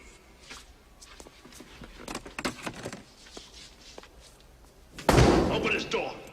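A door is slammed and pounded on in a tense confrontation, several sharp thuds and knocks scattered through the clip, ending in one heavy, loud bang, with raised voices shouting around them.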